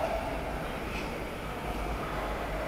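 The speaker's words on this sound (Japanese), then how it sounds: "3番ホームに参ります電車は車庫に入ります。" A Nagoya subway 2000-series train on the Meiko Line arrives at Kanayama station platform, giving a steady, close rumble of wheels and motors that holds evenly throughout.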